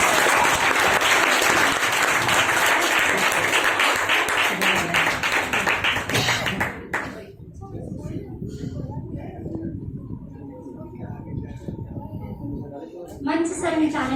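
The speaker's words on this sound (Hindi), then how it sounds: "तालियां तो वही बजाते हैं जिनके बाजुओं में दम होता है" An audience at a Gandhi Jayanti event claps loudly for several seconds, with a voice speaking over the applause; the clapping then fades to quieter, scattered sound before a brief burst near the end.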